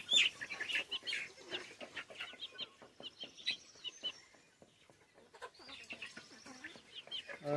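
A young chicken is handled for weighing while it clucks and chirps repeatedly in close, busy bursts, with brief flapping-like rustles between calls.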